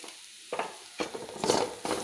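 Grated coconut is stirred and mixed in a pan for a fish curry, giving several short scraping bursts with soft sizzle between them, moderately loud and close, with no talking.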